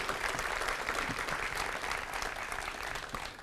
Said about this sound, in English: How about a round of applause for the soldiers standing on the field right now?